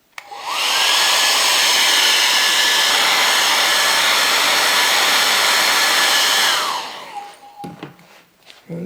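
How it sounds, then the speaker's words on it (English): Hair dryer blowing on watercolour paint, a loud, steady whooshing motor roar that starts abruptly and holds for about six seconds, then winds down with a falling whine and quiet handling noises. "I can stop the process with my hairdryer"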